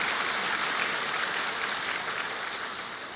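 Congregation applauding in a church service celebrating a choir's fiftieth anniversary, dense sustained clapping throughout, fairly even and slowly fading slightly toward the end.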